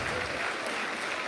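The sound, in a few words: clapping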